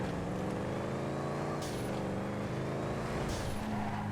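The Picador's engine drones steadily while it races in GTA FiveM on the Olympic GP circuit, holding a constant hum with a couple of faint brief hiss bursts and no speech over it.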